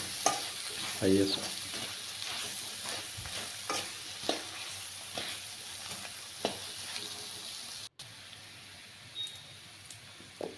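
Potato paste frying over a medium flame for an aloo fry, a steady sizzle carried through with repeated stirring scrapes at an even rhythm, close and moderately loud with no talking.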